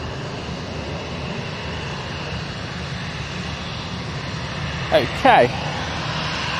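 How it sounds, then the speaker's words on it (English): An EasyJet passenger jet at Manchester Airport produces a steady, moderately loud engine rumble, with a brief spoken word and a short burst of nearby noise near the end. "Let's jump on this EasyJet."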